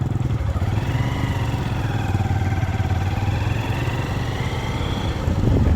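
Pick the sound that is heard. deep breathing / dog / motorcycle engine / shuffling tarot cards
motorcycle engine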